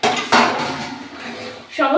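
Metal spoon scrapes and clinks against a pot while fried potatoes are stirred into cooked mutton, a few close, loud strokes, with a voice speaking over them.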